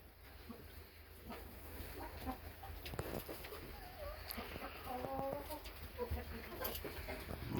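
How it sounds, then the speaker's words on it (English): Hens cluck in a backyard flock as they pick on a hen, the calls coming in short bursts mid-range over a steady outdoor murmur, with some faint talk nearby. "The other hens are giving her a rough time."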